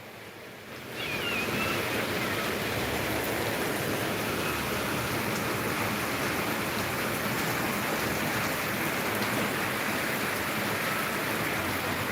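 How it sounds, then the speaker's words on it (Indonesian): Steady rain falling and easing off, a continuous broadband hiss after an abrupt start, holding level for the rest of the stretch with no voices. "Hujannya udah mulai reda nah."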